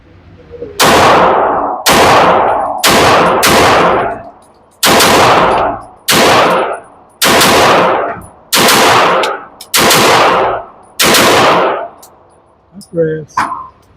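A MAC9 DS Comp pistol fires about ten loud, sharp shots at an outdoor range, each followed by a short ringing decay, in an uneven rhythm. A brief clatter is heard at the end.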